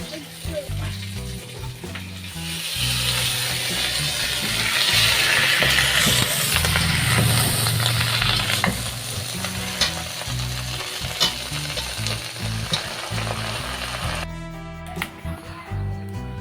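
Two rohu fish heads fry in a wok (kadai) while being stirred, producing a loud, close sizzle that swells midway, with scraping stirs and clatter, then eases off as the hiss fades near the end.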